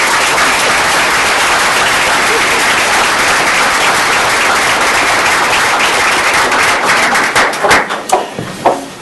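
Audience at a school district board meeting applauds art teachers, a dense, steady wash of clapping that holds for several seconds before thinning into scattered individual claps at the end.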